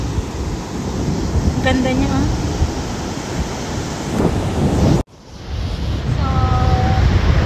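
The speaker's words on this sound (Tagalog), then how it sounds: "Kaso ang lakas ng alon, no?" Strong ocean waves rolling onto a beach in Brazil, a loud continuous wash of surf blended with heavy wind buffeting the microphone, while a person talks briefly over it.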